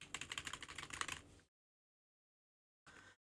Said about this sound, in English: I can hear him typing.